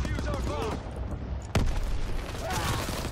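A single sharp sniper shot cracks loudly at mid-clip in Call of Duty: WW2 multiplayer, a sudden broadband report over ongoing game noise and faint ambient battle sounds, with no voices.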